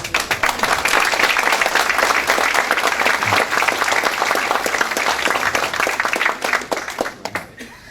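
An audience claps steadily in dense, sustained applause for several seconds, loud and close, before it thins into a few scattered claps at the end.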